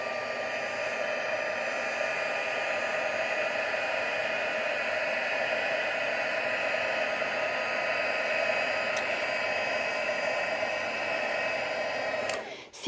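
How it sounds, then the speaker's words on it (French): A heat gun blows continuously over wet watercolor paper, a steady close whooshing drone with a constant whine, ending in a brief clatter at the very end. "on utilise le pistolet chauffant pour aller donc essuyer"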